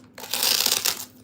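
A short rasping scrape of a blade cutting into a foam ball, one brief burst that swells and fades within about a second, close and fairly quiet.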